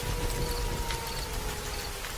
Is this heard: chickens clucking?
no